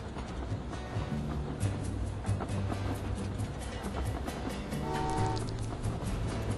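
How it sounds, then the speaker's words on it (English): A train arrives in the video game Train Valley 2, a continuous rumbling rail noise with a short horn toot near the end, steady and fairly loud with no talk. "Because this train is just about to arrive."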